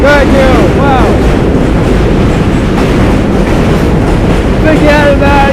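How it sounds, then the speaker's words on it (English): A loud New York City subway train arrives, with a continuous heavy rumble and roar and high metallic wheel squeals near the start and again near the end; faint voices are barely audible beneath the din. "This train's so loud."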